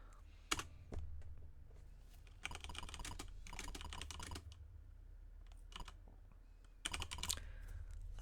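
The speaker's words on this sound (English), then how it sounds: "I type a few words." Typing on a computer keyboard while programming an Atari in 6502 assembly, with quick bursts of close key clicks separated by brief pauses over a low steady hum.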